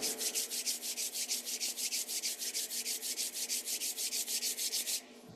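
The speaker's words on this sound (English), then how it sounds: "which I do by just rubbing my hands till they get warm" Two hands rub briskly together to warm up, a close, rhythmic swishing of about four strokes per second that runs steadily and then stops abruptly.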